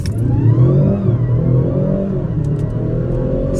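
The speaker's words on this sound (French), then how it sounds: "le bruit que ça fait, il y a un bruit électrique, on a l'impression de décoller, de démarrer une fusée." An electric car launches hard from a standstill in sport mode, giving a loud, continuous whirring rumble that rises slightly in pitch as it gathers speed, heard close and without talk.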